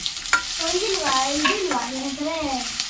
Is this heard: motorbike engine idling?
no